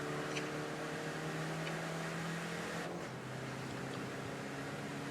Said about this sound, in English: Now the car's heading down towards the chicane for the first time.